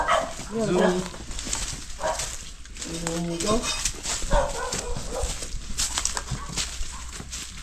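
A dog yelps and barks a few times close by in a rural settlement in Pila, Laguna, mixed in with someone talking over steady outdoor background noise.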